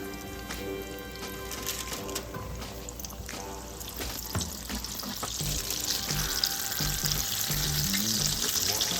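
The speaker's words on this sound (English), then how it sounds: "we're gonna go ahead and get these fried up" Apple hand pies frying in a pan of oil, a steady close sizzle and crackle that grows slightly louder as more go in, with occasional clinks and shuffling, and no talking.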